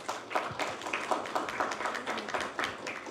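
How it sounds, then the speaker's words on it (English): An audience applauds a speaker named Petras at a club seminar, with a steady patter of moderate clapping from many hands lasting a few seconds, rising and falling slightly in density. "a big round of applause to Petras."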